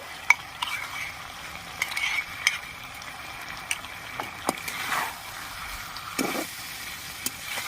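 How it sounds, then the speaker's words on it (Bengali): Meat sautéing in a pan with whisked yogurt just added, a low sizzle under intermittent stirring scrapes and light clinks of a spoon. "টক দইটা দিয়ে সামান্য একটু কষিয়ে নেব।"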